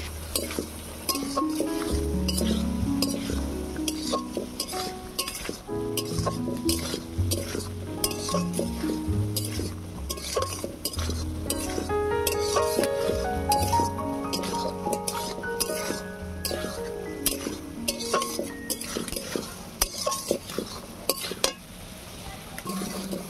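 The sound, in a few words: sautéing potatoes and prawns with spices in a pan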